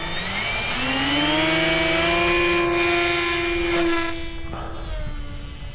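A small electric RC Rutan Long EZ model plane with a tiny 1800 motor whines loudly and steadily as it flies close by, its pitch rising slightly and then fading as it pulls away.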